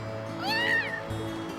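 A little black cat in the Trails of Cold Steel video game lets out one clear, rising-then-falling meow over a steady backdrop of soft game music.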